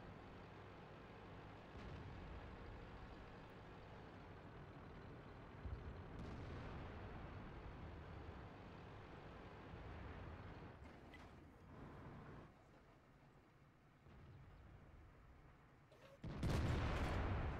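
Tank cannon fire in World of Tanks from a WZ-111, heavy booming shots over a rumbling engine drone, with a loud close blast near the end.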